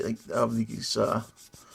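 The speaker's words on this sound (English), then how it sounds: "taking my really aggressive sanding stick here, and I've been sanding down the tops of" Rough, rhythmic strokes of an aggressive sanding stick on resin scrape back and forth in short bursts, close and fairly loud, with brief pauses between passes.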